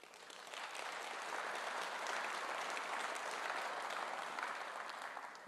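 Audience applause at a Conservative Party Conference speech, a steady wash of many hands clapping that swells in, holds strong and full for several seconds, then eases slightly.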